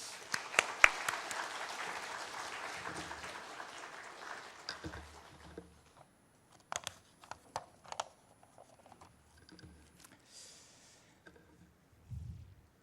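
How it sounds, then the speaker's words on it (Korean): A church congregation claps loudly to welcome a pastor during a Wednesday prayer service, with dense applause for about five seconds that thins into scattered claps, knocks and shuffling before fading into quiet. "우리 목사님 나오실 때 큰 박수로 축복하겠습니다"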